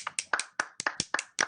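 Hands clap repeatedly at a steady, quick pace, about eight sharp claps in a second and a half, close and fairly loud with no voices.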